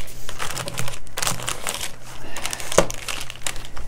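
Freezer paper, shiny on one side and matte on the other, crinkles and crackles in close, irregular bursts as it is cut to size and pressed into the corners of an acrylic palette box.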